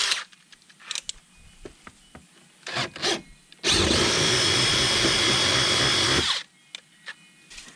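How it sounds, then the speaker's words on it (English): A power drill bores a hole for a fish finder transducer cable, starting with a small bit and then a half-inch bit. After scattered handling clicks and short bursts comes one loud sustained whir of about three seconds. "let's get the hole drilled. So I'll start off with a small hole, and then we're going to go to a half inch bit"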